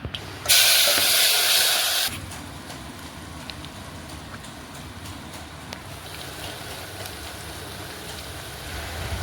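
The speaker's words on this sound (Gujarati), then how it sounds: "તપેલામાં તેલ મૂકી દીધું છે, રાઈ એડ કરી દીધી છે. રાઈ ફૂટે" Mustard seeds hit hot oil in a pan while tempering for kadhi, giving one loud burst of sizzling hiss for about a second and a half, then settling into a quieter, steady background fry.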